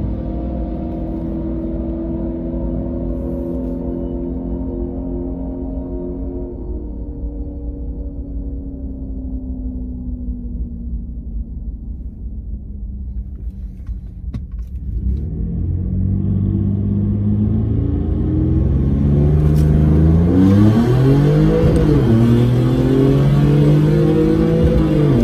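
A Whipple-supercharged Ford F150 on the Bandimere drag strip drones steadily, then climbs louder as its engine revs rise and fall through gear changes.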